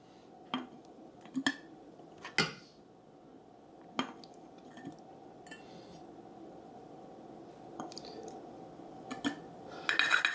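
Quarter-cup measures of flour scooped and tipped out for a sourdough starter at home, with several sharp clinks and taps of a cup against a container spaced across the clip over a low background hum.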